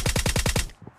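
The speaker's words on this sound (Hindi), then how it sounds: "किसने फायरिंग की?" A rapid automatic burst of about six loud gunshots in a PUBG-style battle royale game, evenly spaced and close, then cutting off into a faint tail.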